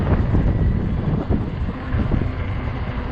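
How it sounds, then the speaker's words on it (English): Strong wind gusts buffet the microphone while riding a 20-inch 48V fat tire e-bike, making a loud, continuous low rumbling roar that surges and dips with each gust. "Oh, that fucking wind, you see it?"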